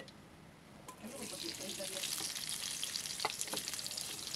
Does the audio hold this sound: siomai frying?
yes